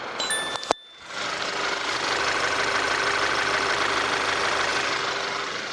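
A 2012 Audi A6 gasoline engine idles in a steady, even hum after a brief click at the start. The sound is close and moderately loud, with no talking.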